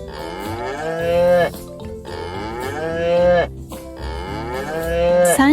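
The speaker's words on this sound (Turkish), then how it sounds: "Bu bir inek sesiydi." A cow moos three times in a row, loud and close, each low drawn-out call separated by short pauses.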